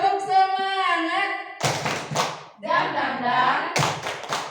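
Rhythmic classroom clapping chant, tepuk semangat: a sung phrase, then several sharp group clap bursts alternating with chanted syllables from voices, close and energetic.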